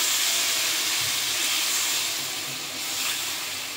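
Broth poured into a hot pan of koi fish curry after the spices are fried, giving a steady loud sizzle and steamy hiss that eases slightly over a few seconds, with no talking.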